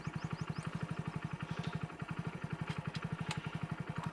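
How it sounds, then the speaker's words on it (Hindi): A Hero Splendor+ 2022 motorcycle engine idles at a halt with a steady, fast chugging pulse, close and fairly loud, running evenly throughout without stopping. "अब देखिए इंजन हो चुका है कट ऑफ"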